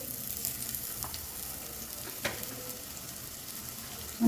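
Onions frying in a couple of spoons of oil in a hot pan give a soft, steady sizzle, fairly quiet, with a few faint clicks of stirring and no talk.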